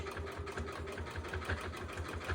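A home sewing machine runs steadily through a zigzag stitch on a fabric seam edge, its motor humming with a fast, even mechanical pulse at close range, unbroken and with no voices.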